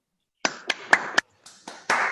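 Clapping from a small audience during a Zoom conference, heard as a few loud separate bursts of hand claps with brief gaps, close and clear with no talk over it.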